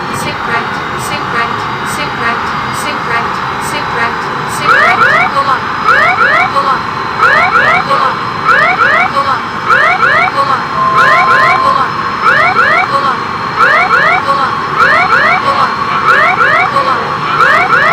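Cockpit warning alarms in the X-Plane 11 flight simulator as an airplane is deliberately crashed: a repeating two-tone alert chirps in steady pairs over a constant engine drone, loud and continuous, with no speech.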